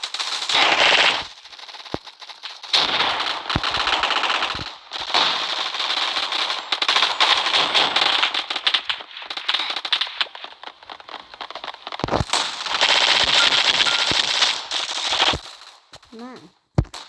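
Rapid automatic gunfire from guns in a Roblox gun fight arena game, loud bursts of machine-gun fire running almost continuously with short gaps, close and dominant throughout.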